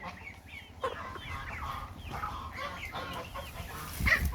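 Ornamental chickens and young chicks clucking and chirping repeatedly at close range in a farmyard setting, a steady chorus of overlapping calls with a louder squawk near the end.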